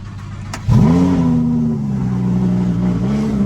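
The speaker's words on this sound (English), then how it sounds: "Straight pipe, cold start, supercharged, 800 horsepower." A straight-piped, supercharged 800-horsepower car engine cranks on a cold start and catches with a sharp roar, then settles into a loud, rumbling high idle that wavers slightly, close by and alone.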